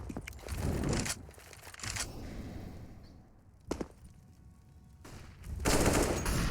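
Automatic rifle fire from AKs and Galils in a Counter-Strike esports match, with several loud bursts and single shots spread across the clip amid busy in-game noise.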